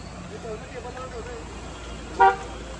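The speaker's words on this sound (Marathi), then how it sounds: "आमची अजून एक गाडी आलेली आहे." A car arriving at a family dinner outing gives a single short horn toot near the end, standing out over a steady background of murmuring voices and street noise.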